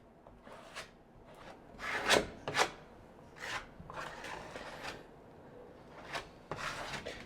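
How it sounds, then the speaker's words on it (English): A putty knife scrapes sealant off plywood in a series of short, rasping strokes with pauses between them, moderately quiet and close with no talking. "So I'll take my putty knife, I'll clean that up"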